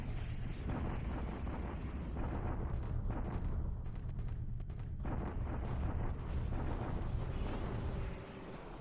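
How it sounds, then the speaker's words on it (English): Japanese bombardment in the wargame War in the Pacific: a continuous loud rumble of booming explosions and blasts, dense and roaring throughout, with a brief thinning midway before the barrage resumes and fades slightly at the close. "Japanese bombardment at Lanchow"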